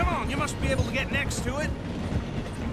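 Train rumbling past at low speed through a station in Red Dead Redemption 2, a steady mechanical clatter and rumble running beneath a man's urgent speech throughout.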